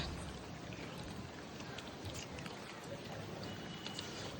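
Rain falls steadily and fairly quietly on a rooftop with water pooling, a soft constant patter with a few brighter drops.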